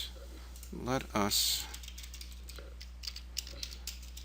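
Typing on a computer keyboard, a short flurry of close key clicks followed by scattered lighter taps, with a voice speaking briefly over the clicking.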